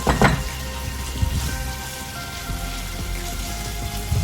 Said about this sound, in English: Cook it really well till the keema is completely done.